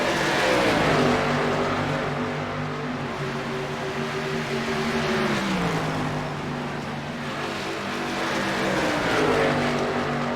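Several race cars roar around a speedway, their engines droning continuously and loud with pitch sweeping up and down as they accelerate and pass, the sound wide and somewhat distant.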